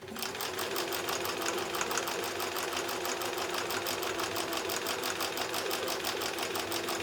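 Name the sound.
sewing machine stitching a mini mosaic quilt seam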